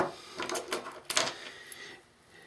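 Bolt carrier internals going back into a WASR AK rifle, heard as a quick series of close metallic clicks and sliding scrapes, four or five crisp bursts with a faint hum between them.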